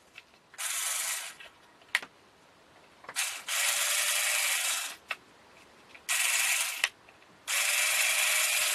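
A Black and Decker 9019 cordless screwdriver with a replaced battery pack runs in four separate bursts, each a loud, steady buzzing whine of gears starting and stopping, with small clicks and handling noises in the pauses.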